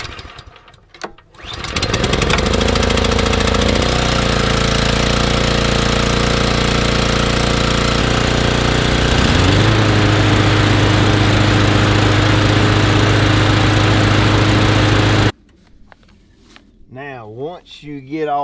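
A lawn mower engine starts and runs steadily, loud and close, being warmed up for spring; its pitch shifts partway through before it cuts off abruptly, leaving brief speech afterward.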